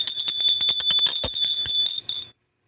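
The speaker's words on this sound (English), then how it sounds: "let's go ahead and ring the bell" A small handheld bell is shaken rapidly, producing a bright, continuous jingling ring for about two seconds before stopping abruptly into silence.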